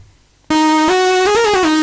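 Synth lead built from two saw waves frequency-modulated together, played dry without effects: a bright buzzy sustained tone that enters abruptly, steps up in pitch, bends through a short melodic wobble and settles back, loud and alone.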